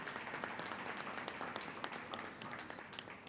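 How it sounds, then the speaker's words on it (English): Faint, distant applause from a conference audience honoring a panelist, the president of JAMPRO, at a Jamaica diaspora gathering, with scattered soft claps running steadily through the whole moment. "Can you give her a round of applause,"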